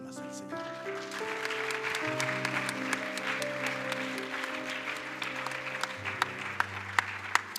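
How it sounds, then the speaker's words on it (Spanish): A church congregation at a Spanish-language service claps rhythmically together over sustained music, with voices mixed in and sharp individual claps standing out near the end. "Démosle palmas al Señor."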